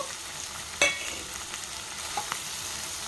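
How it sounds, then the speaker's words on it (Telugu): Raw shrimp and drumsticks sizzle steadily in hot oil in a pan for a curry with raw mango, under a constant frying hiss and a few sharp stirring scrapes, with no voices. "రొయ్యలు మునక్కాయలు ఇదంతా పచ్చివాసన పోయిందాక ఆయిల్లోనే మగ్గించుకోవాలన్నమాట"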